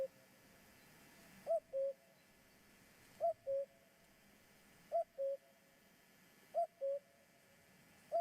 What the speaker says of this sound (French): Je vous montre un petit extrait de son coucou.